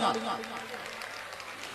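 A crowd at a devotional gathering applauds loudly with both hands raised, producing a dense, steady wash of clapping that fills the whole stretch, with a voice briefly audible at the start.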